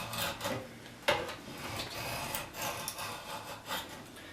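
A bevel-down knife shaves and shapes a curved wooden arm rail, giving repeated rasping, scraping strokes close by with a sharp knock near the start.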